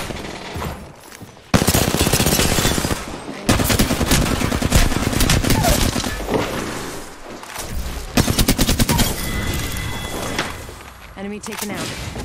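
Loud rapid gunfire from the shooter game Apex Legends, played with mouse and keyboard, in long sustained automatic bursts separated by brief gaps, with voices speaking over the action.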